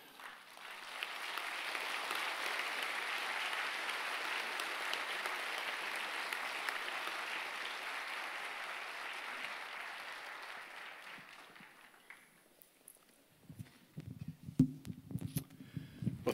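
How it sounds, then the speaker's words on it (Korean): A church congregation's applause at Promise Church rises softly and holds steady for about ten seconds, then fades out into faint movement and a few scattered sounds. "우리 나오실 때 큰 박수로 맞이해 주시기 바랍니다"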